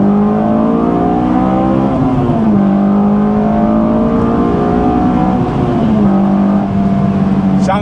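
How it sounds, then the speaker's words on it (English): A 2024 Acura Integra Type S pulls hard under acceleration in hot weather with the air conditioning on, its engine note rising loud and close through gear changes around the two- and six-second marks. "Let's do a little pull real quick"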